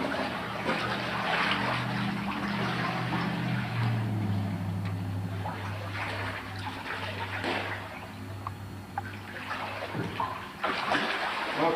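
Wastewater being stirred in a tank, an ongoing churning, splashing slosh with a low motor-like hum, fading somewhat toward the end.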